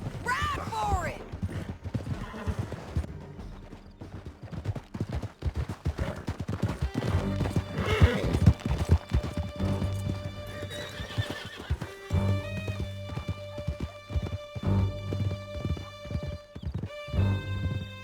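Horses gallop and whinny as they are ridden through a canyon in Red Dead Redemption 2, with rapid hoofbeats, neighs and scattered gunshots over a music score.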